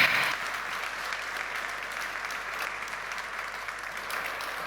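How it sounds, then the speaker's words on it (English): Sustained applause from a large audience at a technology conference closing ceremony in Lisbon, steady dense clapping filling the room from start to finish with no voices over it. "give yourself a round of applause"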